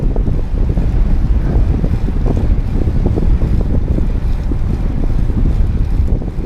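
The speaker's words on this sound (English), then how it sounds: "Wind has picked up as the sun rises." Strong wind buffets the microphone during an early morning bike ride, a loud, constant low rumble with gusty fluttering throughout and no voices.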